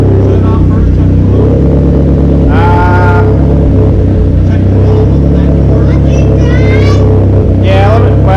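A big-turbo SRT car engine idles loudly and steadily close by, a constant low rumble under several people talking.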